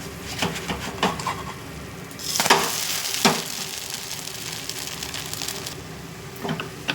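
A buttermilk dosa sizzles on a hot pan with a steady, close hiss, broken by a few sharp scraping and clattering bursts as it is turned over; no talking.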